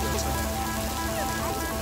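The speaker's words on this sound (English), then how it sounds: "Took the duck tour and it came a storm and it's raining." Heavy rain pours during a storm on a lake while on a duck tour boat, a brief, loud, steady wash of noise with a low engine-like hum beneath it.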